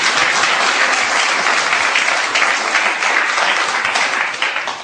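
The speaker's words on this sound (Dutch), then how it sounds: "Hij zei, ik zou niet klappen als ik jullie was, maar ze deden het wel." Dense, sustained applause from a television studio audience, loud and close, with many hands clapping evenly throughout and tapering slightly at the end; no voices stand out.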